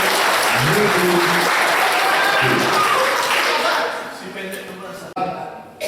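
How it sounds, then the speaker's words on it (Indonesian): A crowd applauds loudly and continuously, then the clapping thins out and fades near the end. "Tepuk tangan untuk"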